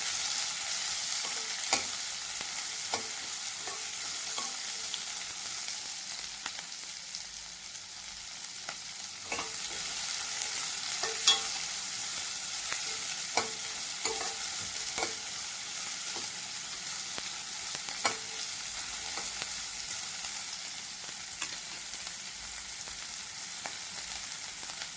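Onions sauté in a pan for a tomato gravy, a soft continuous sizzle punctuated by irregular spatula scrapes and taps every second or two, close and steady for the whole stretch without any voices.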